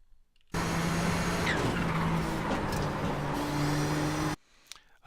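Nissan GTP ZX-T race car at Mid Ohio in iRacing roars loudly at high revs for about four seconds with tyre squeal, the engine note climbing and dipping through gear changes before cutting off abruptly.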